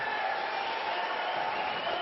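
Appreciative crowd applauding at a hockey game during the tail end of a Rebels power play, a steady, dense wash of clapping and crowd noise held at an even level throughout.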